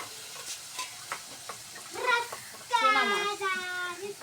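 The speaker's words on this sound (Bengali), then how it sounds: "পেঁয়াজ মশলা সুন্দর করে কষে নিচ্ছি, তেল ছাড়ে গেছে" Onion masala frying in a pan with oil separating, a soft sizzle under scraping stirs, while a voice speaks and a child chatters nearby.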